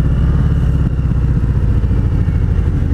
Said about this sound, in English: Yeah, the downshifting is amazing.